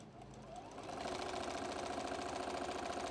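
A sewing machine sews quilt fabric at a short 1.8 stitch length, a continuous rapid mechanical whir that picks up speed and holds steady, quiet and close with no talking.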